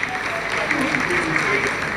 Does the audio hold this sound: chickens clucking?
no